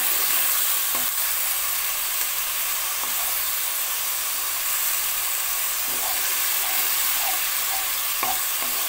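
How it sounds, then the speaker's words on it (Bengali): Onions fry for dum aloo with a constant, loud sizzle from the pan, and a few soft taps of a stirring spoon sound now and then. "হালকা ভেজে নেব পেঁয়াজটাকে।"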